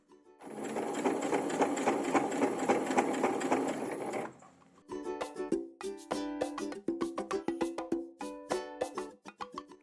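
A sewing machine stitches along the edge of an amigurumi doll body in one steady, close run of about four seconds, then gives way to a series of short, choppy bursts of stitching.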